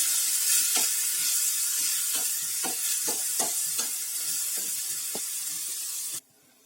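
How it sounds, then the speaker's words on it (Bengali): Moong dal dry-frying in a hot kadai for khichuri makes a steady, loud hiss, while a spoon scrapes and stirs it in repeated soft strokes. The sound cuts off abruptly near the end. "এর জন্য আমি প্রথমে এই কড়াই দিয়ে দিচ্ছি মুগের ডালটা। এটা একটু ভেজে নেব।"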